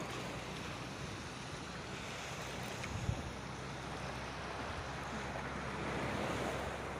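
Ocean surf at a beach with clear water rushes in a steady broadband wash, strong waves pulling at the shore with some wind noise and a slight swell near the end, no talking.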